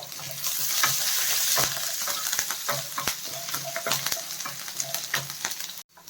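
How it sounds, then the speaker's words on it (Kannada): Chopped garlic sizzles steadily in hot oil in a pan while a spoon stirs it, with scraping clinks of the stirring scattered through the loud, continuous frying hiss. "ಈಗ ಇದೆಲ್ಲ ಸ್ವಲ್ಪ ಫ್ರೈ ಆಗಬೇಕು."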